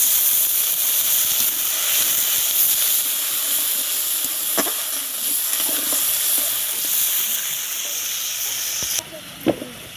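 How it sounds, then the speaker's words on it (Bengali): Spice paste sautéing in a pan for chickpea bhuna, with a steady broadband sizzle running throughout and a few scraping stir sounds, ending in a sharper clatter near the end; no talking. "এই যে মশলাটা কষা হোক"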